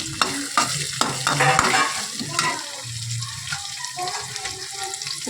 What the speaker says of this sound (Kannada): ಟೊಮೊಟೊ ಹಾಕ್ಕೊಂಡಿದ್ದೀನಿ ಸ್ವಲ್ಪ ಫ್ರೈ ಮಾಡ್ಕೊಳ್ಳೋಣ ಫೈವ್ ಮಿನಿಟ್ಸು